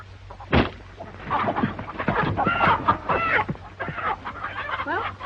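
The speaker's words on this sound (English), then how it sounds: "Oh, he can't hurt them chickens." Farmyard chickens cluck and squawk in a busy, overlapping chatter, close and fairly loud, from a 1934 Western film scene.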